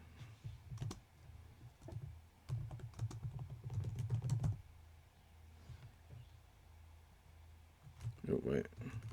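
C++ code typed on a computer keyboard, a string of soft keystrokes in short runs mixed with low talking, near and moderately quiet.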